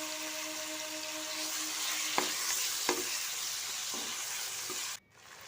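Chicken with onion, turmeric, salt and chili sizzling steadily in a pan, a broad continuous fry with a few sharp spoon scrapes and clicks, then an abrupt drop near the end.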